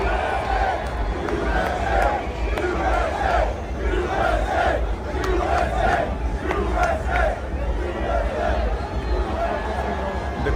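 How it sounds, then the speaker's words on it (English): A packed stadium crowd at an F1 race chants "USA" for Donald Trump, with loud, rhythmic, repeated shouts rising over a constant roar of crowd noise and babble. "The crowd cheering and chanting for Donald Trump on a solo level."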